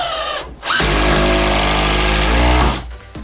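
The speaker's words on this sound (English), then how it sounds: "I'm just going to fix it to the stud work of the shed." A power drill fixes shelving to the stud work of a shed: one loud, sustained whirring run of about two seconds, with quieter handling noise before and after.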